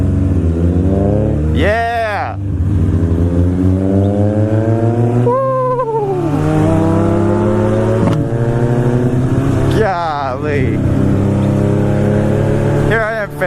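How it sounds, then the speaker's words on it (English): Honda S2000 exhaust revving loudly in repeated bursts, close by, with rising and falling engine pitch over a steady idle, while people cheer and talk. "Give me some of that exhaust."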